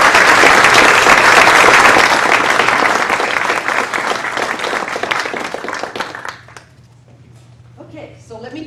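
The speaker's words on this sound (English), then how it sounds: "So I think we should give them a round of applause" A public forum audience for congressional district candidates gives a dense, steady round of applause that gradually fades out, leaving a quieter room with faint movement.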